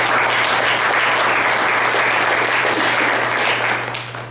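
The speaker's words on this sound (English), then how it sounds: "So I'd like to give them a round of applause." An audience applauds sponsors and volunteers at a medical speaker series event, dense continuous clapping from a sizable crowd that holds steady for several seconds before starting to fade.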